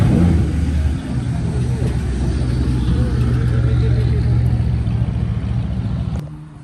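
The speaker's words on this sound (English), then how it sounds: "Got the Honda Civic rolling in, the first Civic coming in" A Honda Civic rolling into a car meet, its engine a steady loud low rumble close by for several seconds before cutting off abruptly near the end, with people talking over it.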